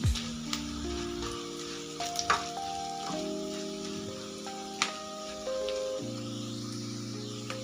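Whole spices, two cloves, two peppercorns and two cinnamon pieces, sizzle steadily in hot oil in a pan, a continuous crackling fry with a few clinks of a utensil.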